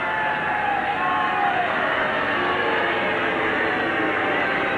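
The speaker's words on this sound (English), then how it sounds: "Crowd letting them know that they're here at the match." Rugby league match crowd from 1991, Canberra Raiders against Brisbane Broncos, cheering as a steady, loud, distant roar of massed voices that holds evenly throughout with no breaks.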